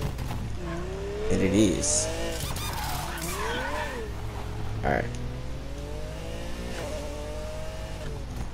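Lamborghini Murcielago engine in a video game revving up and down in rising and falling sweeps with some tire noise, close and steady, as someone speaks briefly over it.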